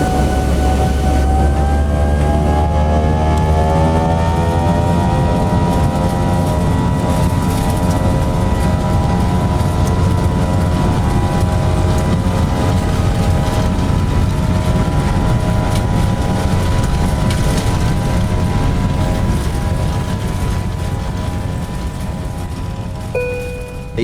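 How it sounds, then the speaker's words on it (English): Jet airliner on final approach into London, a steady loud cabin drone with rising tonal engine whine lasting throughout, slowly easing toward the end. "we are on final approach and will be landing in London shortly"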